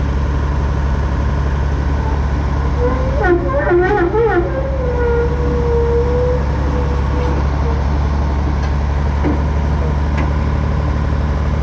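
Classic pile-pressing crane truck at work, with a loud, steady engine drone running throughout and a brief squealing, hissing burst partway through.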